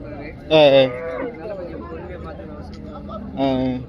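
Cattle at a cattle market in Chinthamani moo loudly twice, one long call near the start and another near the end, with crowd chatter and talk continuing beneath.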